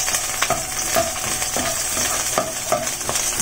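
A medium onion sautéing in a pan before tomatoes go in, a continuous close sizzle punctuated by rhythmic spatula scrapes and stirring strokes every half second or so.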